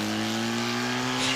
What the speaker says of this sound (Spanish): Eso es una moto, ¿no?